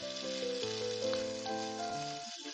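Beaten eggs and cod sizzle gently in a hot pan, with the heat off while they are stirred constantly. A soft, steady crackle plays under a tonal music bed.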